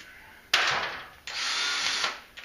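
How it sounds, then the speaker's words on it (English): Two bursts of a power drill grinding into metal on a 1956 Chevy, a short one then a longer sustained one, loud and close. "with the world's sharpest drill bit."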